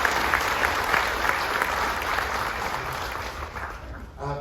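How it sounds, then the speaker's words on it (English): Audience aboard the cruise ship Carnival Magic applauding at a military appreciation gathering, a dense, loud, steady wash of clapping that carries nearly the whole time before tapering at the very end. "If we can give a huge round of applause to the Space Force"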